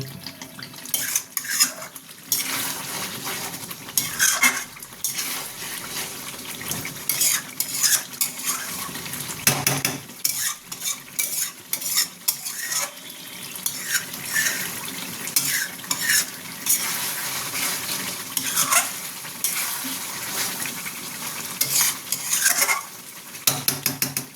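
Green chillies are stirred in a frying pan for chicken chap, a metal spoon scraping and clinking against the pan over a steady sizzle in uneven bursts, with no talking.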